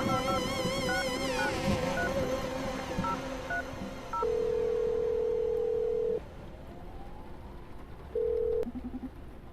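A phone call is dialed in the video game The Red Strings Club: a fast run of keypad tones, then long, steady ringing tones repeated with pauses between them, clear and alone.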